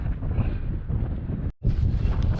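Strong wind on the slopes of Mount Teide volcano in Tenerife, in an exposed, flat spot high up. Loud, steady buffeting roars across the microphone throughout, cut by a brief dropout partway, with no talking.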